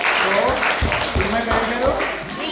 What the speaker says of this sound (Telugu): క్లాప్స్ కొడదామా టాపర్కి?